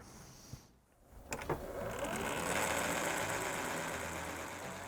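A servo motor sewing machine stitching leather boot tops starts after a brief pause and then runs on as a steady, close mechanical hum with rapid ticking.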